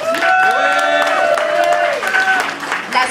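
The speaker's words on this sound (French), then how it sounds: "donc on applaudit Flamme" Audience applauds a young performer at a talent show, a dense burst of clapping and cheers with a voice talking over it.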